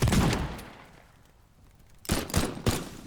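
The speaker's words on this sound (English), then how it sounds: "shotgun," A shotgun fires in the destruction sandbox game Teardown, with one loud blast and its decay at the start, then three sharp shots in quick succession near the end.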